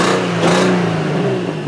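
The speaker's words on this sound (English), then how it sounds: "That's a horrific misfire." A race car engine idles and revs roughly, its low steady drone stumbling with an uneven misfire. The car sits close by, loud and continuous.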